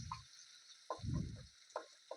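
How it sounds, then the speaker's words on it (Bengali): Ginger and tomato fry in a pan for a vegetarian chana dal, giving soft, close sizzling bursts with brief stirring scrapes and quiet gaps. "ভাজাটা চলছে।"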